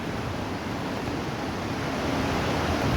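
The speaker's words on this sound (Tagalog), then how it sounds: "Yan mo yung ilog, oh." River flowing outdoors at a cool bathing spot, a loud, steady broadband rush of water that fills the whole stretch without pause, with no talk.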